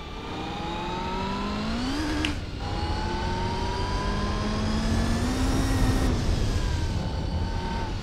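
A race car in the video game Gran Turismo 4 drives with a loud, continuous engine drone whose pitch climbs and drops through gear changes, with no talking.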